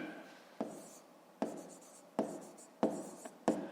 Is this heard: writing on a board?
yes